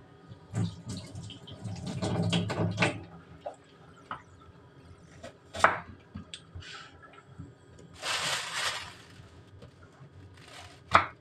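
Onion being chopped finely on a cutting board in a home kitchen, a run of quick knife taps in bursts alongside running tap water and splashing, fairly close and moderately loud.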